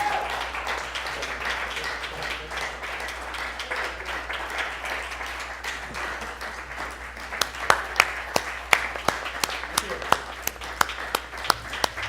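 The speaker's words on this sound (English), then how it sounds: "Dr. Neil, that was quite the applause you just received" Sustained audience applause for Dr. Neil Foster at a church service, a dense steady wash of many hands clapping, with sharper individual claps standing out near the end.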